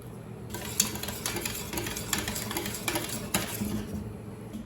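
Cornflour is stirred into water in a bowl until no lumps remain, a close, busy run of rapid scraping and light clinking that keeps up steadily without pause, no voices.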